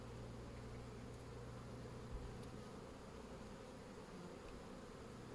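Honey bees in an open hive during an early-season inspection and oxalic acid strip treatment, giving a continuous, even, low droning buzz that stays steady and fairly faint throughout, with no talking.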